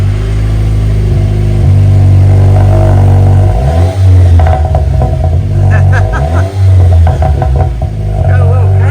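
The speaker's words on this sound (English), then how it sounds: "And there's the new dual exhaust setup from Flowmaster." A Jeep JL with the 2.0 engine and a Flowmaster dual exhaust, idling steadily, then revving twice in loud, close bursts with a little crackle as the revs fall.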